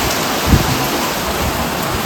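Heavy summer downpour in Dhajala, a loud, continuous rain hiss with a single low thunder thump near the start.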